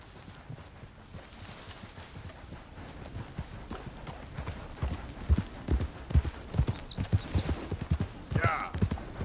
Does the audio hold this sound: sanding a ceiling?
no